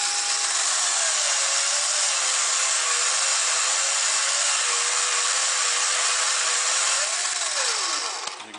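A powered strop polishes a V-shaped carving tool, giving a steady, close motor whine with a faint wavering pitch that drops sharply as it winds down at the end.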